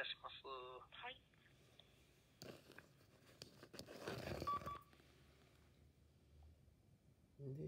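A quick burst of telephone keypad tones opens the moment as a call is dialed to the police, followed by quieter handling noises and a muffled rustle.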